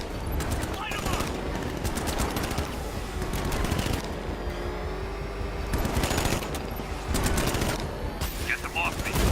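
Gunfire in the video game Batman: Arkham Knight rattles as dense, continuous automatic bursts over a roaring background, loud and close, with voices shouting in between.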